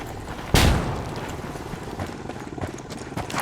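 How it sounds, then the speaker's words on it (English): A flashbang grenade detonates in Ghost Recon Wildlands, one sharp loud bang followed by a ringing, slowly fading wash of noise and scattered faint game sounds. "Throwing a flashbang."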